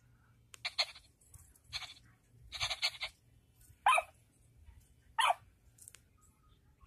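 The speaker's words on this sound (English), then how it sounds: "It's little dog Fido." A cartoon dog gives a series of short, sharp, yappy barks, some single and some in quick clusters, separated by quiet gaps and heard alone.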